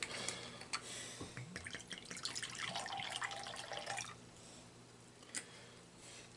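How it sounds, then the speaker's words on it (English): Balsamic vinegar pours into a Ziploc bag with a soft, close liquid gurgle and trickle lasting a few seconds, followed by faint drips and bag rustling. "And then we're going to add 4 ounces of balsamic vinegar."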